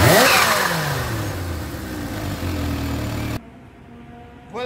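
A Kawasaki H2 SX motorcycle engine revs hard near the start and then winds down through a falling pitch before cutting to a quieter idle rumble.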